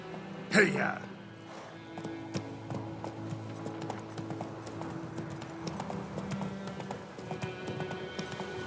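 A horse clip-clops at a steady pace in the video game The Witcher 3, with a whinny and a shout near the start and the gait continuing under game ambience.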